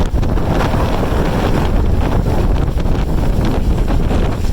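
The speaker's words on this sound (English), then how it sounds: "Holy crap, it's windy out here." Strong wind buffets the microphone in a constant loud roar, with gusty rumbling throughout and no speech.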